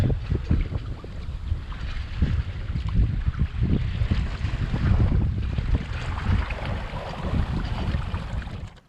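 Contessa 26 sailboat running at about 4.5 knots in roughly 20 knots of breeze on a solo Atlantic crossing, with constant roaring wind buffeting the microphone and water rushing and slapping along the hull.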